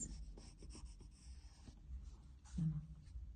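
A pencil draws lines of a sewing pattern on paper, a series of short close scratching strokes on a hard surface, with faint voice and low background rumble.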